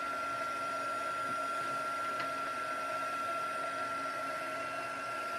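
Heat tool drying watercolor on paper for a stamping project: a steady, even whirring blower hum with a faint high whine, running without change throughout.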